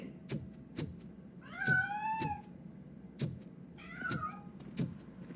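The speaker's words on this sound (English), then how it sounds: "That cat must be hiding inside." A cat in RoboCop: Rogue City lets out two drawn-out meows with a slight rising whine, over a low steady background hum and a few sharp clicks.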